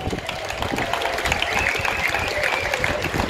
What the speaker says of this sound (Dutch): Dan mag ik alstublieft eerst een ongelooflijk groot applaus voor het Opera Corps Opera onder leiding van Marco Bolts.